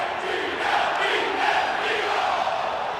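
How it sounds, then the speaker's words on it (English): A hostile football stadium crowd in Philadelphia, Eagles fans facing the Buccaneers, gives off a continuous roar of massed voices that swells slightly and then stays loud and even throughout. "Hostile crowd."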